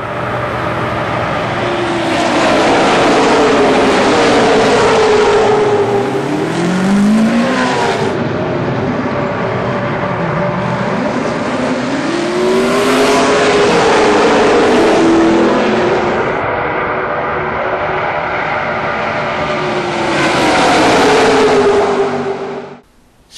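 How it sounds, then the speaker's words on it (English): ARCA race cars roar past up close at Daytona, several loud passes with rising and falling Doppler sweeps and engine howl building and fading between them, with no talking. "here's what they sound like up close and personal"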